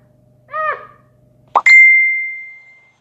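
Two short phone notification chimes from the Facebook app, a soft warbling blip followed a second later by a bright ding that rings out and fades slowly, close and clear over a quiet background.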